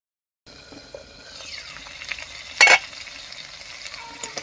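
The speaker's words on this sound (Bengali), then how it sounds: "আলুর সঙ্গে মশলাটা কষে দেখুন কি সুন্দর তেল ছেড়ে দিয়েছে" Spice masala and potatoes are stir-fried in oil in a pan, a sizzle that starts after a moment of silence and builds, broken by one loud scraping stir, with no one speaking.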